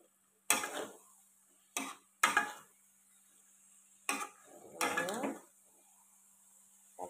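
A spatula scrapes and clatters in a pan as food is stirred and oyster sauce is added, five sharp separate bursts of metallic scraping at close range with quiet gaps between.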